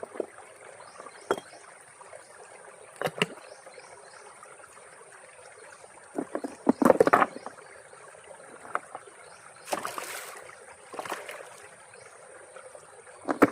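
Water flowing out of a farm field makes a steady, fairly quiet rushing trickle, with a few brief louder splashes and knocks breaking in now and then.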